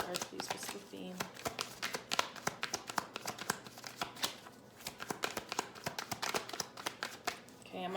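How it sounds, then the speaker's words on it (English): Tarot cards are shuffled by hand in quick bursts of crisp riffling clicks and slaps, close and clear, repeating in an uneven rhythm across the whole stretch. "I'm going to shuffle once more."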